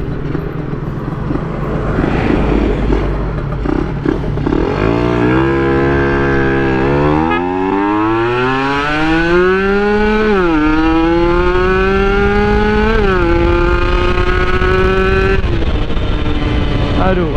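Motorcycle fitted with a PWK 28 carburetor and 32 reamer on a test ride, engine loud and close as it revs up through several gears with rising pitch and brief dips at each shift, a voice faintly in the background.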